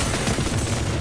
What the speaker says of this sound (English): Crack grenade out.